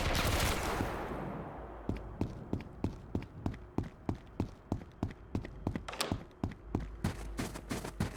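Gunfire in the video game Road to Vostok, a run of evenly spaced loud single shots with sharp cracks, fired at a steady rhythm after a fading burst of noise.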